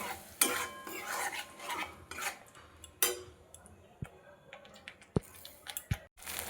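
Masala being stirred and sautéed with coconut milk for a prawn malai curry, with scraping and clinking of a utensil against the pan in bursts, sharp clicks toward the end, and a low sizzle underneath.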